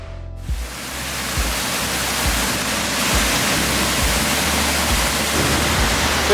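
Steady, loud rush of water pouring over a weir on the River Darwen, a continuous broadband roar with a faint low rumble pulsing underneath.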